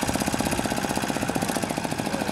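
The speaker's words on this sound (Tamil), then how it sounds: "அந்த இன்ஜின் சவுண்டை நீங்கள் கிளியராக கேட்கலாம்." A fishing boat's engine runs near the shore of a beach, making a steady, rapid, close chugging throb at an even rhythm. No voices are heard.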